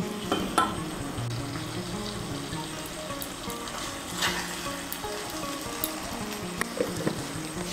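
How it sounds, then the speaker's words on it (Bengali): Ghee and garam masala powder frying together in a pan while being mixed, giving a steady, moderate sizzle with occasional light clicks and spoon scrapes close by, with no talking. "ঘি আর গরম মশলা গুঁড়োটাকে ভালো করে মিশিয়ে নেব"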